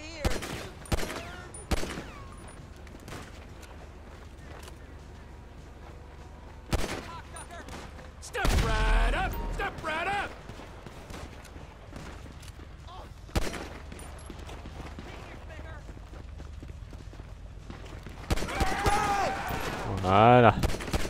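Gunfire in the video game GTA V, with scattered sharp shots and short bursts spread across the scene, some near and loud, others fainter, mixed with voices talking.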